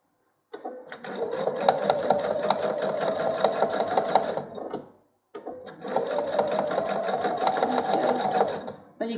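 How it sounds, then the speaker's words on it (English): Domestic sewing machine top stitching close to the folded edge of a small fabric coaster made from a four-patch block, running in two steady bursts of rapid, even needle stitching separated by a brief pause. "Now we want to top stitch as close as we can to that edge"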